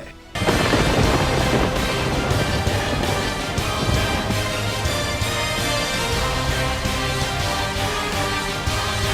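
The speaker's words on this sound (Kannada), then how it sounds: "ಕೆಲ ದಿನಗಳಿಂದ ದಕ್ಷಿಣ ಕನ್ನಡ ಜಿಲ್ಲೆಯಲ್ಲಿ ಜೋರು ಮಳೆಯಾಗ್ತಿದೆ" Heavy monsoon rain pours over the flooded Pumpwell Circle road junction in Mangaluru, a dense, loud, unbroken roar of downpour with low rumbling underneath, steady from start to finish.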